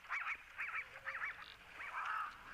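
A Cape crow calls repeatedly in an open savanna setting, its harsh, honking caws coming in a quick run of four or five notes and standing out clearly over soft outdoor background.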